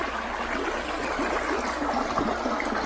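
A spring-fed stream on a farm lot in Liliw, Laguna flows steadily, with close, continuous rushing and trickling water and no voices.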